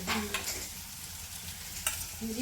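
Onion and curry leaves frying in a pan, a steady soft sizzle with a few brief scraping stirs of a spoon, close and moderately quiet.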